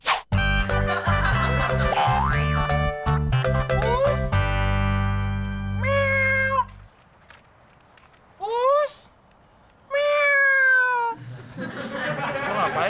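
A person imitates cat meows to call cats, giving a few rising, drawn-out vocal meows with gaps between them, following music and talk earlier in the scene.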